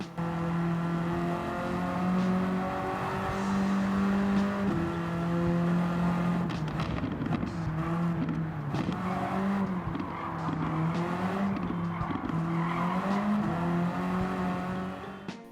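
A Peugeot 205 GTI engine drones in Gran Turismo 7, shifting through gears with rising and dropping revs, steady and moderately loud with no talking.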